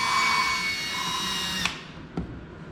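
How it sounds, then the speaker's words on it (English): Power drill whirring steadily while spinning a cylinder head valve to lap it against its seat with grinding compound, a sustained near motor whine that cuts off, followed by a couple of brief clicks. "I have the drill turning to the right as well."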